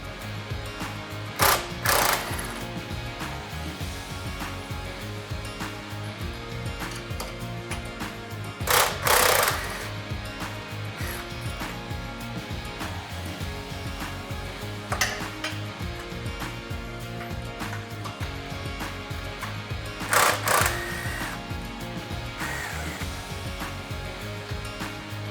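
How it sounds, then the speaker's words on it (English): Power tool or ratchet loosening bolts on the discharge housing of a PVP double disc pump during in-place maintenance, a steady mechanical whir with a few short loud bursts of impact, close up and without talk. "removing these 4 bolts across the top of the discharge housing into the intermediate housing"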